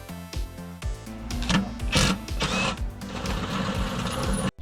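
A power tool backs out bolts holding the front guard on a 2006-10 Hummer H3, giving short whirring motor bursts followed by a longer sustained buzzing run, close and fairly loud.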